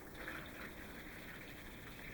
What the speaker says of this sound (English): Now we're going to add water to it.